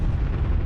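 A loud, deep, rumbling blast from an airstrike explosion fills a brief moment, broadband and close, with no voices.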